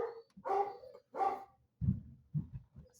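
Zeus, a huge 210-pound dog, lets out two loud barks followed by several lower, shorter woofs and grumbles, close by in a quiet room.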